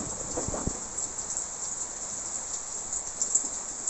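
Soft, steady rain hiss, with a few faint knocks early on and occasional light drips.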